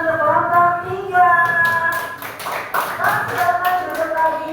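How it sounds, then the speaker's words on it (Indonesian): A group claps for a team of presenters in a classroom, with short bursts of hand claps and taps breaking up the background. Children's voices chatter throughout. "Beri tepuk tangan untuk kelompok 3"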